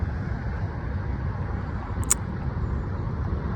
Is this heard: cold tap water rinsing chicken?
no